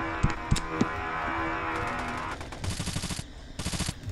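Rapid automatic gunfire in the video game Boring Man, sharp bursts and single shots spread across a few seconds, loud and close over a game background.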